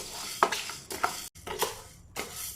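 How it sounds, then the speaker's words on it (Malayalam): Urad dal being dry-roasted in a pan, with a spoon or spatula scraping and stirring in a few separate passes, close and fairly quiet, broken by brief pauses. "ഉഴുന്നൊന്ന് നല്ലപോലെ റോസ്റ്റ് ചെയ്തെടുത്തിട്ട് ഒന്ന് പൊടിച്ചെടുക്കണം"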